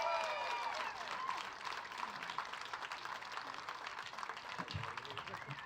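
Applause from an audience at a junior livestock show, a moderate, steady patter of clapping at some distance that continues under someone speaking over a PA.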